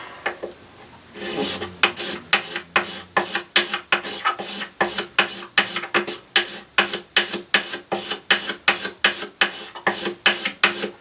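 A cabinet scraper is drawn in steady, evenly spaced straight strokes along guitar wood during a repair, each pass giving a close, crisp rasp in a regular rhythm of about two per second.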